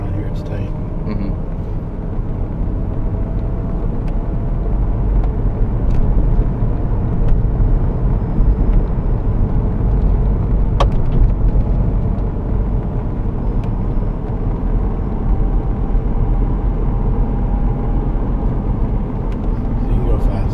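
A Tesla Roadster electric car is driven with a steady low rumble of road and tire noise inside the cabin, continuous and fairly loud, while people talk over it.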